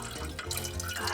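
Tap water runs into a cooking pot at a campervan sink in a steady, fairly quiet stream, with light splashing and no talk.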